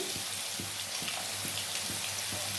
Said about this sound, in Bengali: চলো আসছি আলুটা ভেজে নি